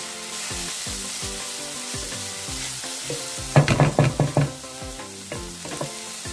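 Split lentils are stirred in a hot pan for a Goan spinach bhaji, a constant oily sizzle underneath a cluster of sharp spoon-scraping strokes midway through.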